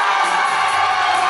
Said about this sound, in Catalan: Aplaudiments per ell.